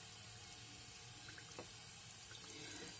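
Tap water runs into a pressure cooker as a steady, faint hiss with a soft splash. The flow is continuous, with a few small clinks near the middle.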